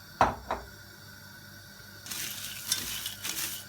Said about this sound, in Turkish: Makarnamızı hafif kahverengi bir renk alana kadar kavuracağız.